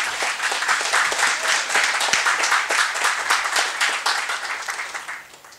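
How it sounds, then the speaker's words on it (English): Audience clapping at a company annual general meeting, a dense steady round of applause from a crowd that carries on for several seconds and then begins to thin and fade toward the end. "You want to clap"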